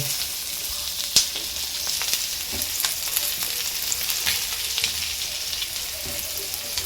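French beans and carrots sauté in a hot pan for a veg spring roll filling, a steady close sizzle with scattered crackles and occasional stirring clicks, no voices.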